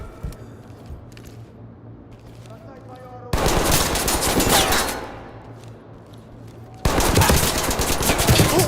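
Video game gunfire comes in two loud, dense bursts of rapid machine-gun shots, each lasting a couple of seconds, after a quieter stretch of faint background game sound.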